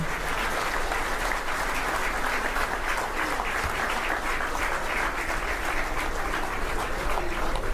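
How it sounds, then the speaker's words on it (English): A large crowd at an India-Israel business summit in Delhi applauds as the two Prime Ministers leave the hall, a sustained, even wash of clapping that stays steady from start to finish with no one speaking. "let's bid them adieu with a huge round of applause, ladies and gentlemen"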